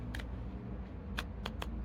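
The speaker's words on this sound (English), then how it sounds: "Okay, this is really bad shuffling." Tarot and oracle cards being shuffled by hand in a quiet room, several short papery riffling bursts at an uneven pace over a low steady hum.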